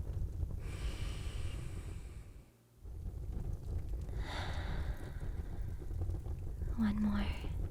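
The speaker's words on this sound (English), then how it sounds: "Copy my breathing and I guarantee you'll feel more at ease." Slow, deep breaths in a close, intimate whispered setting: a long drawn inhale and exhale, a short pause, then another breath, with soft breathy voice sounds near the end.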